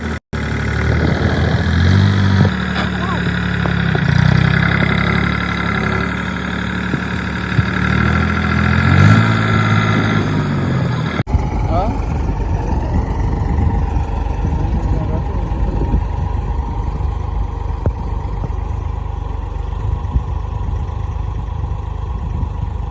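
A tractor engine runs with a steady, close, humming drone for the whole stretch, its tone shifting roughly halfway through as the vehicle moves along, with faint talk mixed in.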